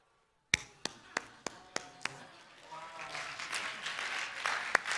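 Church congregation applause starting as six sharp, evenly spaced claps, then swelling into a dense, continuous patter of many hands clapping in a reverberant hall.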